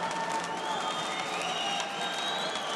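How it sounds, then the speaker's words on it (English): A noisy section of the crowd at an Olympic men's welterweight boxing quarter-final, a dense continuous roar of cheering and clapping with sharp clacker rattles and drumming mixed in. "Drums, clackers, whatever you call them, they're making quite the noise."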